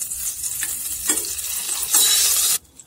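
Butter melting into hot oil over a lowered flame for pav bhaji sizzles loudly and steadily, rising toward the end before cutting out suddenly, with spoon stirring audible and no talking.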